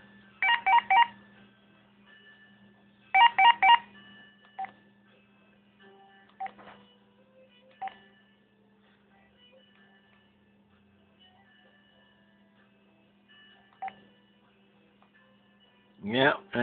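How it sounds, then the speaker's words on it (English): A Veth cordless phone's page button gives bursts of rapid electronic beeps, two clusters early on and a few single beeps later, close and clear over a low steady hum, with brief speech at the end. "I'm going to hit the page button here."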